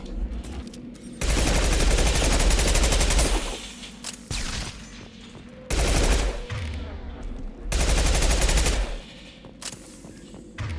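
Sustained bursts of automatic weapon fire in Mass Effect 2, loud and close, coming in three long volleys separated by short pauses, with brief quieter gaps between them.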